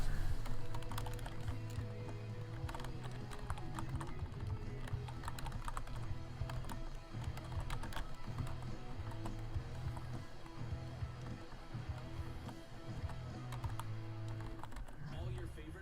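Rapid keys clatter on a computer keyboard in quick irregular bursts, close and moderately loud, while people talk over the typing.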